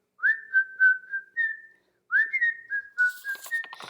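A person whistling a tune, two clear melodic phrases of bright sustained notes, close and alone, with a brief rustle at the end.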